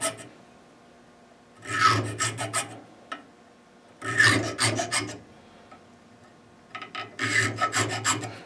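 A 16-thousandths nut slot file scores string slots in a Telecaster guitar nut, heard as three close, raspy bursts of rapid back-and-forth filing strokes separated by short pauses, with no talking.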